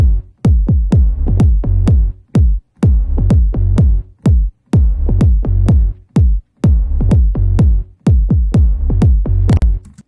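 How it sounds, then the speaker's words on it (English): Punchy kick drum hits lock with a deep, plucked bass line in a steady, repeating house groove, loud and up front with brief gaps between phrases. "So our kick in the bass sounds like this."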